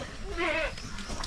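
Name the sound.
goat bleating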